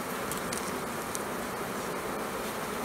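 Honeybees swarm around an opened hive during a late-season check before wintering, a dense continuous buzz close by with occasional louder individual bees passing.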